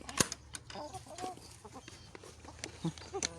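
Chickens cluck and chatter nearby in quick, uneven bursts, several birds overlapping, fairly quiet overall.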